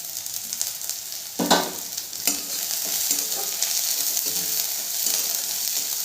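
Green chili frying in a pan with onion, ginger and garlic for Bengali aloo paratha filling: a steady bright sizzle with a few sharp stirring scrapes and clinks, close and continuous, no talking.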